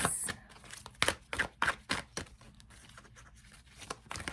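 Oversized tarot cards being shuffled by hand, a run of sharp papery riffles and slaps in uneven bursts, close and fairly quiet, with softer rustling between them.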